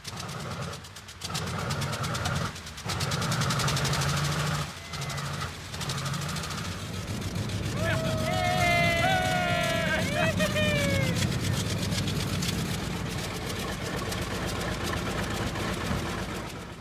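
An engine runs steadily after its carburetor has been adjusted, a rough, continuous drone with gurgling, knocking pulses. People talk over it, and a rising, falling whine sweeps through partway.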